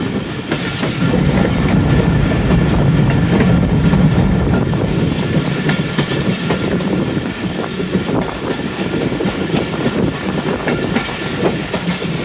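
The 107 Up Islamabad Express passenger train rolls on its line in Pakistan, a loud, continuous rumble with rhythmic wheel clatter and occasional squeal, steady from start to finish with no voices.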